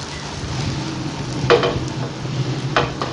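An egg fries in a pan while being cooked for chicken Chinese rice, a steady low sizzle with two brief scraping stirs of a utensil, no one speaking.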